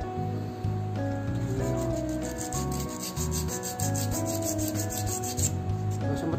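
Steady rhythmic rubbing of a file across a Mio Sporty torque drive to take off its shine, close and continuous strokes with brief pauses.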